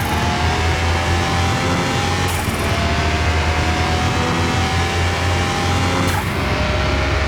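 A modded Toyota Supra engine in Car Mechanic Simulator 21 revving hard through the gears, a loud sustained high-pitched whine that climbs steadily, with brief breaks at the shifts before rising again.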